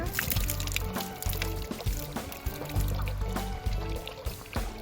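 Water pours and splashes steadily at a temple hand-washing basin in Japan during a visit to Daiyuzan Saijoji in Kanagawa, a continuous close trickle with small spatters throughout.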